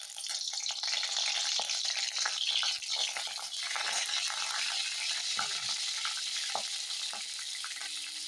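Dried red chillies fry in a pan with a continuous, bright hiss of hot oil, close and fairly loud, with occasional faint clicks as they are stirred.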